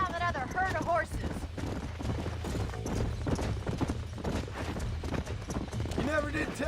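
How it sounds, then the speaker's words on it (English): Horses gallop in Red Dead Redemption, rapid clip-clop hoofbeats pounding steadily throughout under voices talking. "Let's see if we can track down that other herd of horses."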